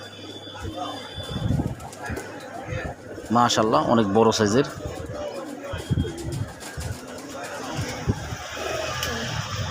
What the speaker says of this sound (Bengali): একবার ডাকটা দেখাইছি মানে ডাকাডাকি দেখাইতেছি